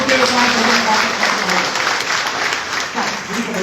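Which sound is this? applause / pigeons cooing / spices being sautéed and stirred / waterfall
applause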